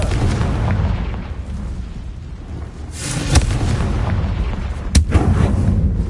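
A Confringo blasting spell from a Harry Potter video game bursts loud over a steady low rumble of game sound, with a sharp crack near the middle and a second smaller blast a couple of seconds later.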